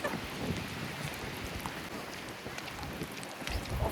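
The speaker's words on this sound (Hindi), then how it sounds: "जैसे हम बाहर निकलते बारिश हो रही है" Steady rain falls in Wellington with a soft, dense hiss and scattered patters, fairly faint and continuous throughout, with no voices.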